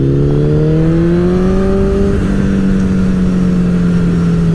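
A motorcycle pulls away at the start of a ride, its engine note climbing steadily then easing into an even cruise, loud and close with constant wind rush and no talking.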